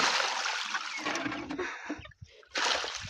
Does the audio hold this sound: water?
yes